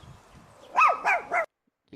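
A dog barks three times in quick succession at close range, then stops and starts a fourth bark after a short silence, with faint room noise before the barking.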